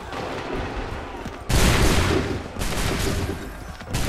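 A musket volley goes off in Assassin's Creed 3, a sudden loud burst of massed gunfire that crackles and rolls on for a couple of seconds, heard up close.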